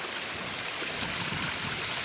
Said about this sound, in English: you can hear the water thundering down